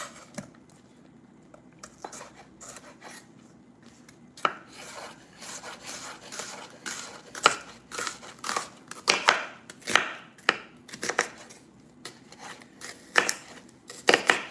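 A Vidalia onion is chopped with a knife on a board, with slow sparse cuts at first building into a quick irregular run of close, crisp thuds.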